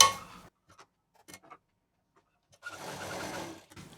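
A sewing machine stitching a patchwork shopping bag, with a brief whir at the start, a few faint taps in a quiet stretch, then a steady, close run of rapid stitching lasting about a second and a half.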